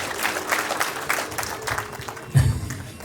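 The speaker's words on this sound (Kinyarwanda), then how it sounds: "Dukomere Imana amashyi twicaraye." Seated wedding guests applaud together, a dense, steady patter of many hands clapping that swells briefly near the end, with faint voices underneath.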